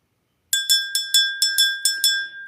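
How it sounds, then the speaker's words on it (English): A small bell rung by hand, about eight quick, bright strikes in a steady rhythm, each ringing on briefly. It sounds close and clear, with no talking over it. "Let me ring this bell for Scorpio."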